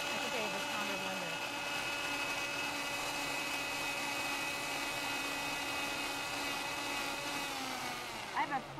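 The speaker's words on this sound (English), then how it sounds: "the pounder blender." A blender whirs at a steady, loud, high-pitched drone while making a spinach smoothie, running continuously before winding down with a few clunks at the end.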